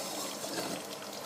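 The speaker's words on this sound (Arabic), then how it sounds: "تو نكمل لها الباقي نتاع اللترتين الماء، لترتين ونص تقريبا هما." Water poured into a pot of Tunisian mloukhia with beef, topping it up toward about two and a half litres; a steady, dense rushing pour that fills the whole short moment.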